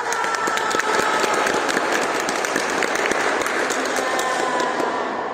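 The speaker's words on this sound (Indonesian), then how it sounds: "tepuk tangan semua" Children and an audience at an online church Sunday school session applaud together in a steady, even wash of clapping. The applause is loud and continuous, with light cheering mixed in.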